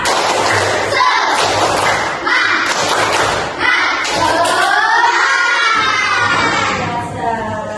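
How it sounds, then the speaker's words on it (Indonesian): Schoolchildren in an Indonesian classroom perform a rhythmic spirit clap, loud close thumping claps in patterned bursts mixed with children's shouted chanting voices. "Coba tepuk semangat."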